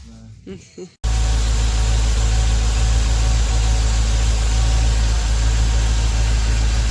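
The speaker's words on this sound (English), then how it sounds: "Happily running Discovery." Land Rover Discovery 2 engine idling with an idle issue: after a brief moment of talking, a loud, steady, close low rumble settles in and holds evenly to the end.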